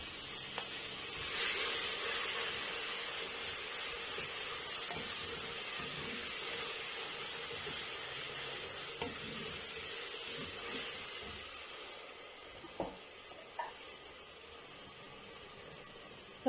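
Ginger garlic paste sizzling loudly in a pan with golden brown fried onions for dhaba-style chana dal fry, a steady bright hiss that eases slightly toward the end, with a couple of soft utensil taps.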